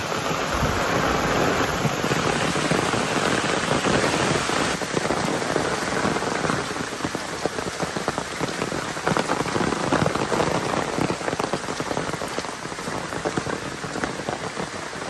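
Steady heavy rain falls outdoors at a farm, a dense unbroken hiss and patter on surfaces that continues without letup and without any voices.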